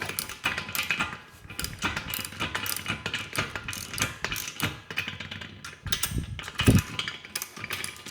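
A ratchet snugs bolts while a FEIERDUN 4-in-1 adjustable leg extension curl machine is assembled, giving rapid, close clicking bursts in quick repeated strokes with brief pauses between.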